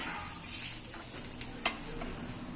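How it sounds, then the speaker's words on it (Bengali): Dry chillies and whole cumin crackle and sizzle in hot oil, a soft continuous fry broken by a few faint pops and brief stirring scrapes. "শুকনো লঙ্কা, গোটা জিরে আর একটু ধনে জিরে ফোড়ন দিয়েছি"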